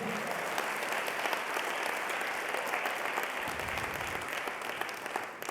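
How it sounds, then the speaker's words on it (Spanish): Sustained applause from a church congregation during a sermon, steady and dense clapping filling the whole stretch without pause. "¿Alguien puede aplaudir su gloria?"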